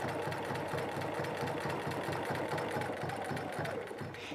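Sewing machine stitching up the length of a buttonhole set with a Buttonhole Buster attachment, a steady, close, loud mechanical whir with rapid regular needle thumps running continuously, no talking.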